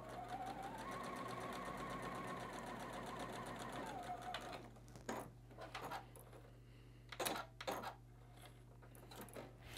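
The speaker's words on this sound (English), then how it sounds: "I'm going to need to rotate it into my sewing machine" Sewing machine running steadily, stitching a quarter-inch seam on batik fabric with an edge guide; a continuous motor hum for about four seconds, then quieter handling clicks and fabric rustling.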